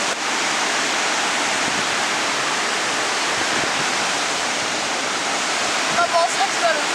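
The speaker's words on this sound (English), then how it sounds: "I found a waterfall at a lake." A waterfall spilling into a lake makes a dense, constant hiss-roar that stays nearby and steady, with brief voices appearing near the end.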